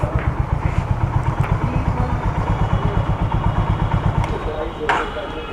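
A Honda CB350 motorcycle engine idles close by with a steady, rapid low thumping pulse, the rhythm holding even throughout with a couple of brief clicks.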